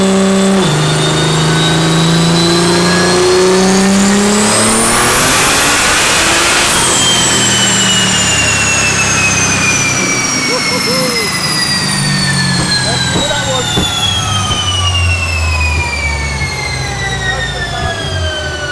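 A tuned BMW engine of over 1100 bhp on a dyno run climbs in pitch to a sustained howl at full power, then drops away and winds down. The sound is loud and close throughout.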